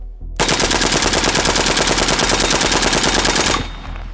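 Rifle firing on full automatic in one continuous rapid burst of about three seconds until the magazine runs dry, loud and close, then abruptly stopping.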